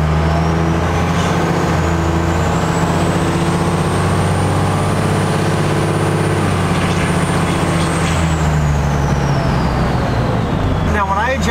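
A 12-valve Cummins diesel engine in a pickup truck drones steadily as it drives along, its pitch rising and falling with acceleration and a whistling turbo whine on top.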